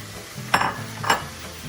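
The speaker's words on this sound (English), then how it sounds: "You're gonna take your cut up onions and tomatoes, and you're just gonna put them in there." Two bursts of sizzling as chopped onions and tomatoes drop into a hot pan for lomo saltado, each a short bright hiss over a low steady frying hum, close and fairly loud.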